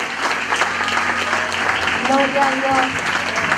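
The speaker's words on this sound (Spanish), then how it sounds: "Le damos un fuerte aplauso al Señor" Church congregation applauding, a dense sustained wash of clapping with a voice speaking over it throughout.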